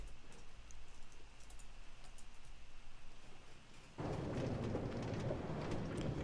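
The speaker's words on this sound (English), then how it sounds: "Riding through the thunderstorm." A thunderstorm with rain in a video game: steady hiss of rainfall with faint crackles, then abruptly much louder and broader rumbling rain for the last couple of seconds, with no voices.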